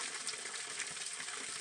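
Spring water pours steadily from a stone spout at a traditional naula-dhara in a Himalayan mountain village, a soft, continuous splashing rush with no break or other sounds.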